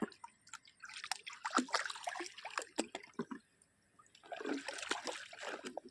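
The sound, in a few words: river water flowing from Bhavanisagar dam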